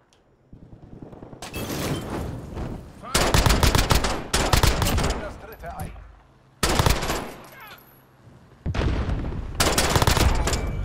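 Gunfire during a Modern Warfare online match: loud bursts of automatic weapon fire in several long volleys separated by brief quieter gaps.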